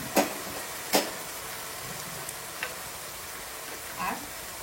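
Soy sauce hits onions already frying in a pan for vegetable fried rice, giving a faint, steady sizzle with a few sharp clicks and taps from stirring and no talking.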